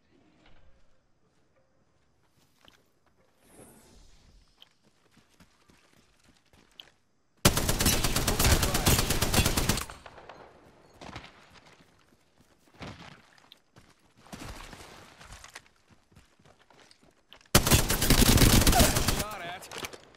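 Bursts of gunfire in Apex Legends: two loud, sustained automatic volleys of several seconds each, separated by quieter stretches of scattered single shots and faint clicks and footsteps.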